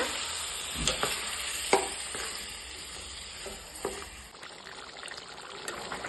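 Lentil curry sizzling in a pan on the stove as a half glass of water goes in, with a steady frying hiss, a few stirring clinks and a sharp splash before the sizzle settles.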